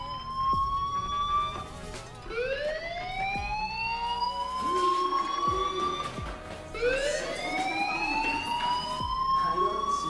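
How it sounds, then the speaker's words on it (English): A rising and falling wail from a school fire alarm in the game Life Is Strange repeats in long sweeping cycles, loud and continuous, with occasional thuds and a voice speaking underneath. "do you hear that fire alarm?"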